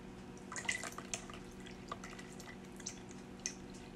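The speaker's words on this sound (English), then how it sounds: "I'm going to pour it through a strainer." Hickory smoke marinade flecked with bits of herbs is poured through a strainer, giving a quiet run of faint, scattered drips and small liquid patters with no talk.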